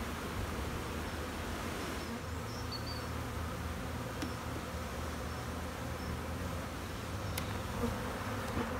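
Honeybees hum steadily at an open hive during colony inspection, a dense continuous drone close by with no pauses.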